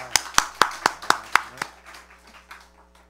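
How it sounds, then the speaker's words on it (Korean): A small group claps during a church Bible lesson, beginning with about six sharp, evenly spaced claps close by and then fading into a few scattered, softer ones. "박수 받아야 돼."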